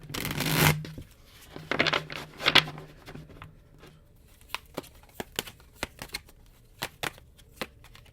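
Tarot cards are shuffled by hand, starting with a few fuller riffling bursts and then settling into a series of crisp, separate card snaps and flicks, close and fairly loud against a quiet room.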